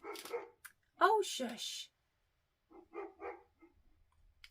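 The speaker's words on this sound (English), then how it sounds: "The dog next door has seen me." Dog next door barking in short, friendly bursts, loud and close, alternating with a person speaking briefly.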